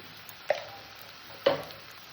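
Ground spices, Kashmiri chili powder among them, dropped into a pan of sautéed garlic for a cauliflower chicken curry, giving two short soft sizzling plops about a second apart over a quiet background.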